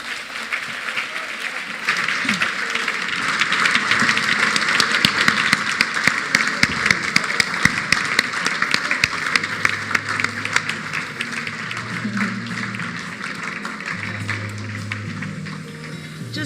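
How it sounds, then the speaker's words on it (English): Sustained applause fills a gala dinner and awards evening, a dense crowd of clapping hands that swells and holds steady for the whole stretch, with some faint low murmur underneath. "Just a little while longer with that applause as Utata makes his way to his seat."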